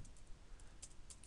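A handful of quiet, crisp keystrokes on a computer keyboard while a command is typed into a Metasploit shell session on Backtrack 5, close by and with no talking.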